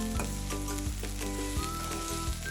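Onions and green chillies frying in a pan while being stirred for a chicken bhuna, with a steady close sizzle and a few scraping stirs, no talking.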